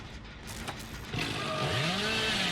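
A chainsaw in the video game Dead by Daylight winds up and revs loudly, its whine rising steadily after a brief quieter lead-in.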